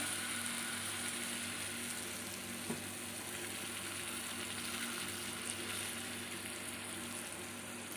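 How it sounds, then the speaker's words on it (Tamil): Fish fries in oil in a pan, giving a steady, soft sizzling hiss that continues evenly throughout with one faint tap and no speech. "இப்போ நான் எல்லாத்தையும் சேர்த்து நான் இதில் வறுத்துக்கிறேன்"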